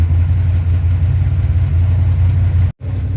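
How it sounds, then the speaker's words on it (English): A car engine fitted with an Edelbrock 1405 carburetor idles on the fast idle cam, a loud, steady low rumble close to the microphone, cutting out for a split second near the end before resuming. "Now it's idling on the fast idle cam, nice and smooth."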